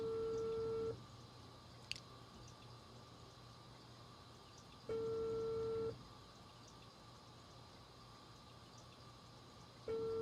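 In a video game, a phone rings repeatedly with a steady tone pulse of about a second, then roughly four seconds of quiet, three times over a low background hum.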